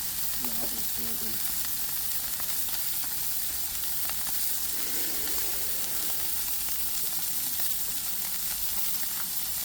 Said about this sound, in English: I want to give it a nice sear